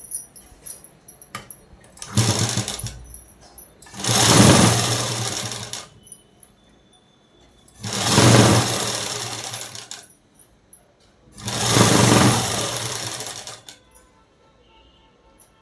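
A sewing machine stitches cloth in three loud, sustained whirring runs of about two seconds each, separated by quiet pauses with faint handling clicks and fabric rustle.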